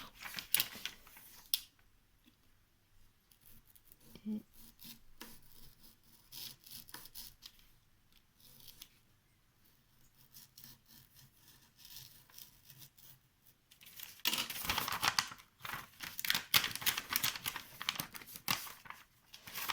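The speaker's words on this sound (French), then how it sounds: "on doit couper sur cette ligne au milieu." A cutter knife slicing through paper along a drawn line, with soft scraping strokes early on and a louder, rougher burst of cutting and rustling near the end, close and with no talk.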